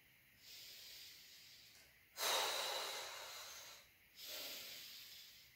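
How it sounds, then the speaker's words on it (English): Slow deep breathing during a seated exercise: long breathy inhales and exhales, three airy hissing breaths of several seconds each, close and clear with no speech. "Deep breath in, deep breath out."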